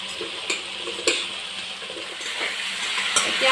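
Cut cauliflower pieces tumble into a hot pan and fry, giving a steady soft sizzle with a few scraping clicks at the start, close by and moderately loud with no voices.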